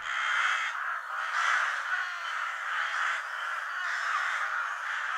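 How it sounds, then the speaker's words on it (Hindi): Crows caw continuously and loudly over a jowar crop field, their harsh calls overlapping into a steady, dense chorus with no pauses. "कई पंछी उस पर ताव मारने के लिए खेत में मंडरा रहे थे"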